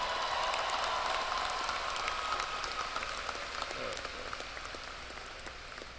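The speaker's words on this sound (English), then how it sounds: "Applause." A high school commencement crowd applauds at the 2018 graduation ceremony, a dense, distant patter of many hands clapping that fades slightly toward the end.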